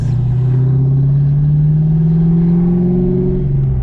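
A 1995 Mustang Cobra engine revs steadily up, its loud, close drone rising slowly in pitch over a few seconds, with no voices.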